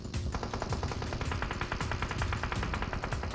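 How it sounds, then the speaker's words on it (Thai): Rapid automatic gunfire in the PUBG Mobile battle royale game, a dense sustained burst of shots filling the whole stretch, loud and continuous with no talk over it. "เฮ้ยเฮ้ยยิงเราเว้ย"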